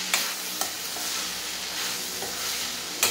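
Long bean sabzi (chowla, barbati) with green coriander being stirred in a pan: a steady close sizzle with a few sharp spoon scrapes near the start and end, no voices.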